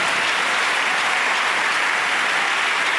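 Church congregation applauding during a pastor's sermon, a dense, loud, continuous roar of clapping hands that holds steady throughout.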